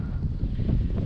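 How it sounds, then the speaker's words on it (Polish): Strong wind gusting straight into the microphone outdoors on a farm field, a loud, low, continuous rumbling buffet with no talking. "strasznie tutaj wiatr wieje"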